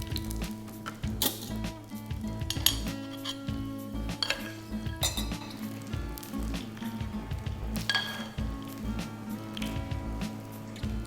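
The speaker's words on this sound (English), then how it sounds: "when you pour those pine nuts, sizzling pine nuts over your yogurt" Hot pine nuts poured over yogurt sizzle and crackle, with clinks of dishes and cutlery and a steady musical backing underneath.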